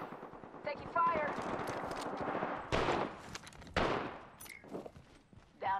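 Rapid bursts of automatic gunfire in the video game Apex Legends, several loud clusters of shots separated by short gaps, with game voice lines and effects mixed in.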